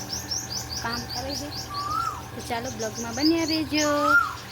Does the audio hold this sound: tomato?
no